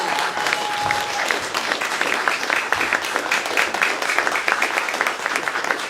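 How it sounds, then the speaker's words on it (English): Steady applause from an audience at a film prize kickoff event, a dense continuous patter of many hands clapping at close range throughout, with a faint tone briefly sounding early on. "give yourselves a big hand of applause"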